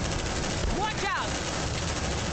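Gunfire in the video game Aliens Dark Descent, rapid shots crackling in the background beneath brief spoken voices, with electronic sweeps passing through the middle.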